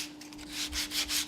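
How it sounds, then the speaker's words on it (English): Steady abrasive rubbing of sandpaper sanding fiberglass off wood on a boat, repeated back-and-forth strokes swelling and fading in a quick rhythm, close up. "I'm just scraping off and sanding off a bit of the fiberglass off the wood"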